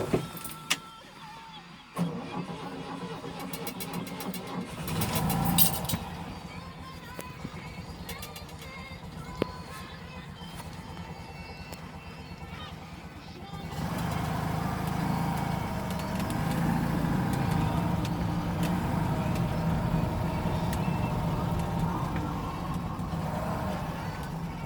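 A 1968 DAF 33 with a 750cc air-cooled engine: starter clicks and a brief crank are followed by the engine catching and settling into a steady, buzzy idle, heard nearby from inside the car.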